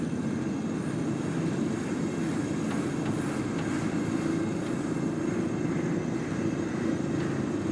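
A train runs in Cyberpunk 2077, giving a continuous loud rumble and rattle of rolling railcars that holds steady throughout, near and alone with no talking.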